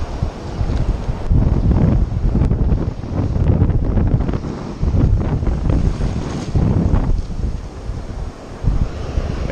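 Strong wind blowing outdoors during fly fishing, a loud, steady rumbling roar buffeting the microphone and swelling in gusts throughout with no talking.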